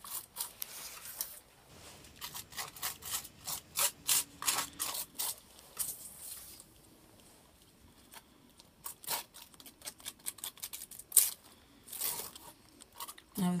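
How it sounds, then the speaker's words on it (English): Palette knife scraping and spreading paint over a sand-textured mixed media surface, with a quiet run of rhythmic rubbing strokes up close and softer gaps between them. "now I'm going to reapply using a palette knife. on top of the sand."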